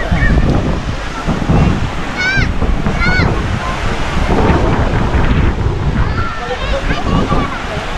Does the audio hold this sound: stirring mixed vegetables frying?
no